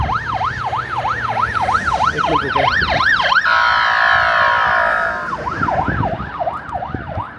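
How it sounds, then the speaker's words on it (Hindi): An ambulance siren near the Great Pyramid in Egypt wails loudly and close in steady rising-and-falling sweeps, with a brief stretch of harsher mixed tone, over traffic noise and a short spoken remark. "ये एम्बुलेंस आई थिंक वहाँ पे ही जा रही है जहाँ पे अभी वो घोड़ा गिरा था"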